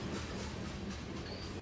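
A train rolls past on rails at Rutherford, a steady broadband rumble with faint wheel clatter and a brief high squeal, fairly distant and continuous throughout.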